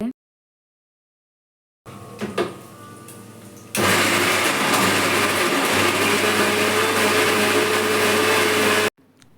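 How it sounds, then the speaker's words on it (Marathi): After a short silence and some clatter, a mixer grinder grinding tomato and onion whirs loudly and steadily for several seconds, then stops abruptly. "टमाटर कांदा वगैरे होता त्याला छान आता मिक्सरमधून मी बारीक करून घेणार आहे"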